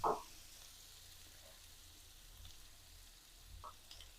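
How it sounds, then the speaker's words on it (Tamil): Curry leaves and onions sautéing in a pan for a Tamil chutney give a faint, steady sizzle, with a brief louder crackle at the start and a small pop near the end. "கருவேப்பிலை, வெங்காயம் நல்லா எல்லாம் பச்சை வாசனை போகிற வரைக்கும் நல்லா வதங்கட்டும்"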